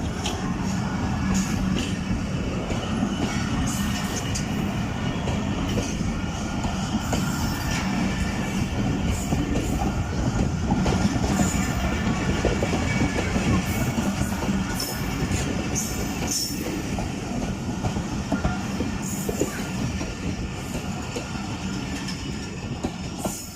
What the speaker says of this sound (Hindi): ये पार्क बिजनेस एक्सप्रेस रवाना हो चुकी है बिन कासिम स्टेशन से